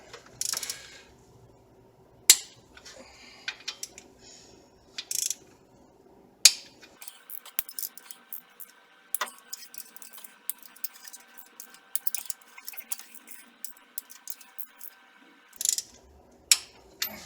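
A ratchet wrench snugs the cylinder head bolts on an Equinox during a head gasket job, giving repeated bursts of sharp, close ratcheting clicks with brief pauses between pulls and no talk.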